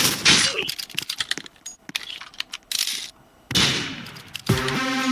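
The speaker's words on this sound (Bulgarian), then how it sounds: "Шерифът стреля." The sheriff's gun firing in the video game Murder Mystery 2, with sharp game shots and bursts mixed with rapid keyboard clicking, loud and close, broken by brief gaps.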